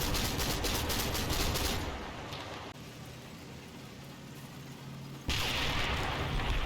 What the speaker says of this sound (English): Fire from the pack kicks up dust.